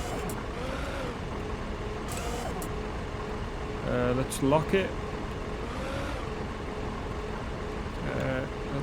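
A vehicle engine idles steadily in the Beer Factory video game, a low continuous drone with a few brief mechanical clanks midway; someone speaks briefly over it.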